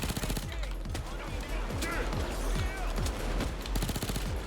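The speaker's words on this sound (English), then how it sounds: "The high rate of fire on this gun makes it perfect as a hip-fire weapon." Rapid, sustained automatic gunfire from an AS Val rifle in the video game Payday 2, a dense stream of fast, loud shots with overlapping game effects and no pauses.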